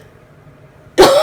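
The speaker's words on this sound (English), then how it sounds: "I'm going to cough" A single sharp, loud cough bursts out near the end after near silence, short and close-up.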